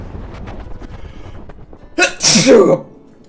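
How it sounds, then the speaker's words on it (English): A single loud sneeze bursts out abruptly after a stretch of quiet background murmur, close and sharp with a brief trailing breathy tail. "I'm gonna sneeze"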